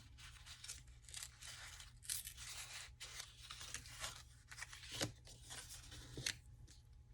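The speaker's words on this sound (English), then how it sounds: "I'm just going to rip this." Paper torn by hand for a craft postcard, heard as a run of close, crisp ripping and rasping bursts with short pauses over a steady low hum.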